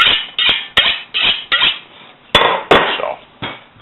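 A chef's knife is struck and drawn along a honing steel in a home kitchen, giving a series of sharp metallic scrapes and clicks, about eight strokes in an uneven rhythm, close and alone.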